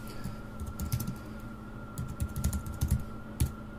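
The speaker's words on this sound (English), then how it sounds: "I get an editor right here where I can type in" Typing on a computer keyboard, with quiet clusters of quick key clicks in short irregular bursts and pauses, close and soft under a faint steady hum.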